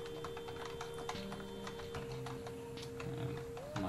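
Login details are typed on a computer keyboard in quick, quiet key taps at close range over a faint steady background hum.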